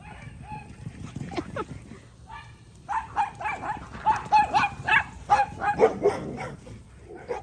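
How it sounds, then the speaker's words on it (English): Dogs bark repeatedly at mid distance in rapid overlapping bursts as they run a backyard fence with neighboring small dogs, with a low background rumble and occasional shuffling. "the dogs have chosen right now to run the fence with the neighbors' little dogs"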